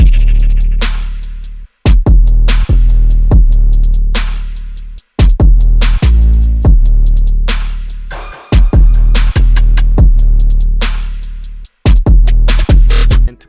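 A programmed beat plays loudly and up close: heavy sub-bass kicks with snare hits, open hi-hats and rimshots in the middle of the pattern, arranged as a high-energy trap beat in FL Studio, with short dropouts between phrases.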